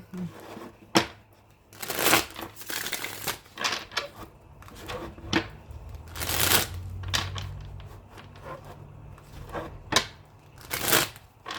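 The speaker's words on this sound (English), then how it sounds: "Look, I ain't even finished shuffling, but we got the Empress at the bottom again." Tarot cards being shuffled by hand, giving repeated bursts of riffling and rubbing at close range with short pauses between, fairly quiet and with no talk over them.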